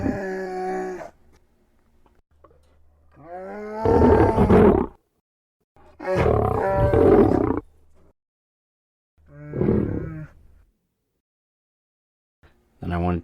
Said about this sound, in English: next I added some lion snarls and growls in there.